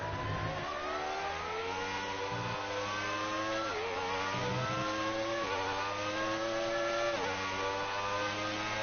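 A Formula 1 race car engine in the F1 2019 video game screams through repeated upshifts and downshifts, pitch climbing and dropping in a rhythmic pattern, loud and close with no talk over it.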